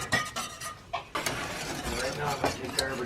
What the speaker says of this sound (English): You're going to want to stir and whisk the whole time